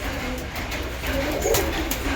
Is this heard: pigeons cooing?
yes